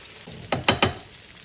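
Tomatoes and jalapenos dropped into a pan of frying chicken curry, three quick loud sizzling bursts over a low steady fry.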